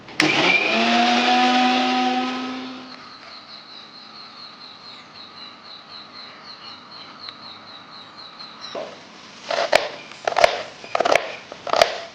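An electric mixer-grinder jar whirs up to a high, whining drone while grinding ginger and garlic for a village-style chicken biryani, then settles into a steadier hum before several sharp knocks and clatters near the end.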